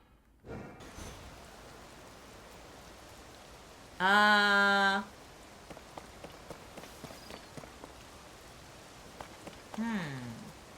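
Rain falling in the video game Tears of the Kingdom, a steady soft patter of drops under faint footsteps, broken by a loud bright tonal game effect and a later short chime.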